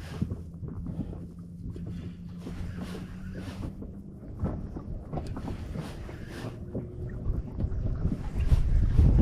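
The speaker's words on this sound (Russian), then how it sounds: "Тут хоть ветер есть, но волну не успевает раздувать." Gusty wind buffets the microphone outdoors over a wide reservoir in March, with low rumbling noise that swells and grows stronger toward the end.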